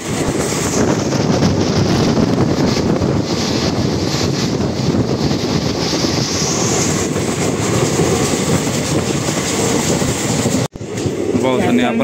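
A train runs past Dondaicha in the rain with a loud, continuous roar and rattle of the carriages, heard close from on board. Heavy wind buffets the microphone throughout, and a brief cut-out comes near the end.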